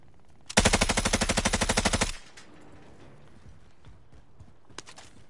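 Machine gun fire in a PS4 video game: a dense, rapid burst of shots lasting about a second and a half, loud and close, followed by quieter game ambience and a faint second burst near the end.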